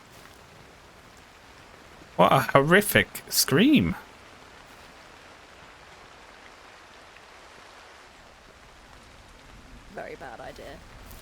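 Steady rain falls at an angle in the video game Cairn, a continuous soft hiss of drops running through the whole stretch, with a loud burst of voice partway through and fainter talk near the end.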